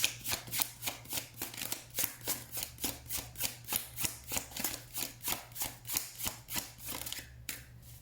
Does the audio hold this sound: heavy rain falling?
no